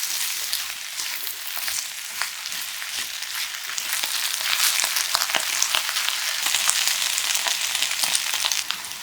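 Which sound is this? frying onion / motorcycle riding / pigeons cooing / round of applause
frying onion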